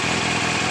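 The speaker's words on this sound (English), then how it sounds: "The idle's kicking up a tad bit as I'm turning it." Idle of a 2000 Suzuki GSX-R motorcycle engine nudging slightly higher, a steady close mechanical putter with a faint rhythmic pulse throughout the brief moment.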